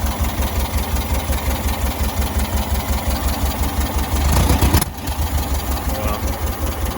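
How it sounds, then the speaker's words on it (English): A custom car nicknamed Bumblebee idles with a steady, lumpy low rumble, briefly swelling louder before settling back into an even tick-over. "That's ticking over really good."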